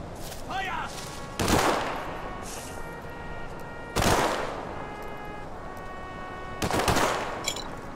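Gunfire in the World War II stealth-tactics game War Mongrels: three loud, sharp volleys spaced a few seconds apart, each decaying quickly over a steady background of in-game ambience.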